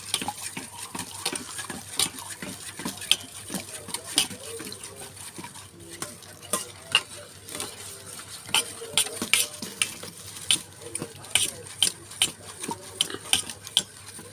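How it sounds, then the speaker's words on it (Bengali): Eggs with salt being beaten in a bowl: a steady run of light, rhythmic clinking strokes close by, carrying on at an even pace with a faint background hum. "দিয়ে আমি ডিমটা সুন্দর করে গুলাই নিব"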